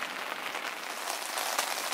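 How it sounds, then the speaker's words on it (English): Heavy rain pouring steadily on a hot tent in the back woods at night, a dense, even hiss of drumming drops up close with no voices. "It's been pouring rain like this all night."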